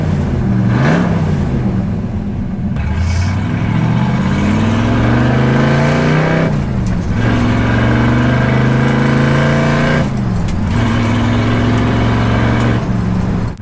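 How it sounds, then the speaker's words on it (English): A 1965 Shelby Mustang GT350 with a 289 cubic inch V8 and side-exit exhaust revs repeatedly from inside the car, loud rising and falling engine pitch sweeps over a constant rumble. "You can hear the exhaust straight out the side slightly behind you, and that incredible 289 cubic inch V8"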